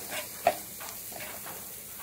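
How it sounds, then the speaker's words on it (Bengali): Prawn curry with cumin powder and spices being stirred in a pan, a soft steady sizzle with faint scraping of the spoon and one brief sharper clink, quiet and close with no talk. "এবার ভালো করে নাড়িয়ে নেবো।"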